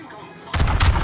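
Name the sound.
battleship gun salvo in World of Warships video game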